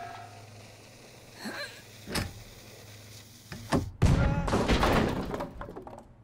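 A sudden cannon launch in The Henry Stickmin Collection video game: a loud, broad burst that follows a few scattered thumps and clicks, then a dense rushing roar that slowly fades.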